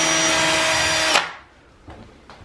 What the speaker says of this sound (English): So we've got to drill all of these four into the ceiling.